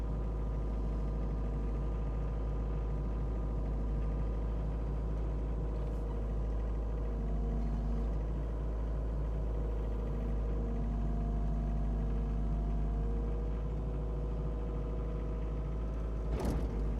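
A Cat 304 mini excavator's diesel engine runs steadily nearby, a constant low drone with slight shifts in load, no voices over it, during garden work with old hand-carved sandstone.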